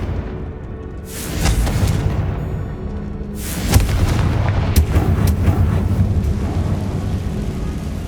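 Confringo spell explosions in the Hogwarts Legacy video game: several loud, booming blasts, spaced a second or two apart, each with a rumbling tail, over continuous battle ambience.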